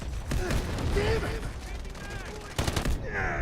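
Gunfire and explosions in the video game Delta Force, with an S12K in use: a dense barrage of shots and blasts runs throughout, with a louder burst near the end.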